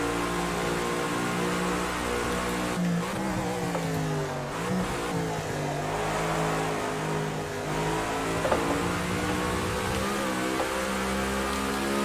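Racing car engine in a sim racing game, steady droning revs with harmonic pitch sweeps rising and falling across shifts, continuous and loud with a slight hiss layered over it, no talking.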